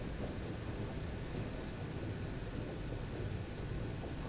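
Steady broadband wind roaring over open sea in a video game, a dense continuous rush with low rumbling surf underneath, even in loudness throughout and free of any voices.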